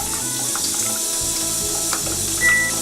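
Water streams steadily from an Alkazone BHL 3700 water ionizer, a continuous broadband hiss and splash near and fairly loud, with a brief brighter tone near the end.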